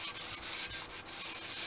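A sanding block with 600-grit paper rubs across a VW cylinder head in steady, close back-and-forth strokes, a soft rhythmic hiss with brief dips between passes.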